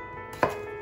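A knife chops through potato into rounds on a cutting board: one sharp close cut with a brief thud, alone over quiet room hum.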